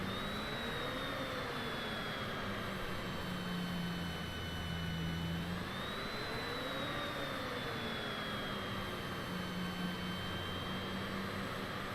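Steady, loud whine and rumble of a Citation private jet's engines in Microsoft Flight Simulator 2020, with high tones slowly rising and falling as the plane sits ready for takeoff, continuous throughout with no talking.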